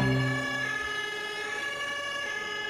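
A steady electronic siren tone from a toy fire truck wails continuously, fairly quiet, with no talking over it.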